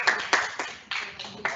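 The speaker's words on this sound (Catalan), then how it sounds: "Podem aplaudir, no?" A handful of people clap at a small presentation, giving distinct, separate hand claps in an uneven rhythm, close and fairly sparse.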